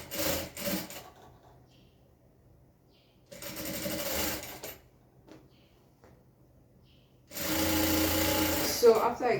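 A sewing machine stitches a sleeve band for a rope gown in three bursts of rapid whirring, separated by quiet pauses, close and loud, with the last run the longest.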